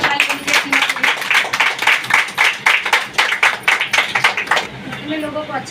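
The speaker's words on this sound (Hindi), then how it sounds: "जोरदार ताली" Loud, rhythmic clapping from an audience at a Hindi-language DXN product training session, with sharp, regular beats repeating for several seconds before they break off near the end. A voice can be heard briefly.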